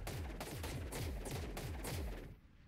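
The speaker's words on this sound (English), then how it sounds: "One right click fires off 3 bullets" Rapid three-round bursts from a hovering tech rifle in ARK: Survival Evolved's Extinction expansion, loud and close, repeating in a steady rhythm of tight triple shots for over two seconds before cutting off.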